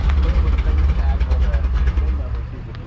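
A 1972 Toyota Land Cruiser fitted with a Chevy 350 V8 runs choked at a hot rod car show, its heavy low rumble loud and steady, fading slightly near the end while people talk over it.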